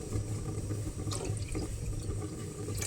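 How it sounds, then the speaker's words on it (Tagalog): Tap water pours steadily into a cooking pot while making mango pickle brine, a continuous splashing trickle close by with a few clinks of the pot, no talking. "Lagyan natin ng tubig."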